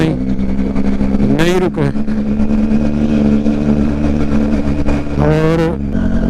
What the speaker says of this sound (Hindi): और एक गाड़ी भी आ गई, पता नहीं कैसे आई।